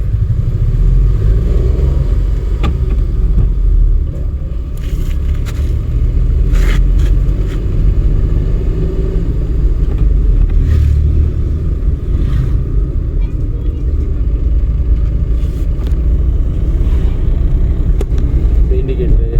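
A driving school car accelerates in second gear during a lesson. A steady, close engine rumble runs throughout, with people talking inside the cabin.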